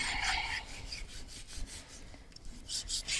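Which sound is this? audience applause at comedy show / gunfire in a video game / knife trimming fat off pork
knife trimming fat off pork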